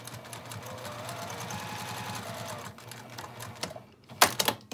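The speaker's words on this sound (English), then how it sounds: "So I'm just going to sew down either side." A sewing machine stitches down both sides of a fabric apron strap that holds a keychain swivel hook, running in a steady rapid hum for several seconds, then stopping, followed by a few sharp clicks and handling knocks.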